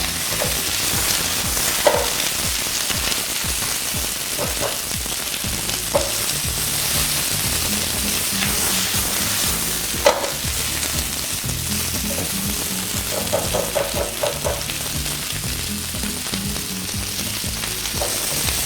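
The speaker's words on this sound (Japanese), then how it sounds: "このお野菜の表面に油がなじむ程度に炒めれば結構です" Vegetables stir-fry in oil in a frying pan for a Chinese rice bowl, with a loud, steady sizzle throughout and occasional scraping clicks and clatters as the pan contents are tossed.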